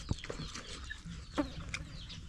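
Native chicken clucking nearby, a few short low clucks and soft calls over faint outdoor background, no talking.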